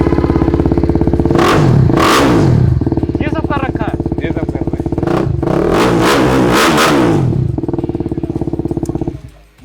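A used 2020 Kawasaki Z800 superbike fitted with an aftermarket exhaust revs hard several times up to its 9000 rpm limit, loud and close, with sharp throttle blips over a steady idle while people talk nearby.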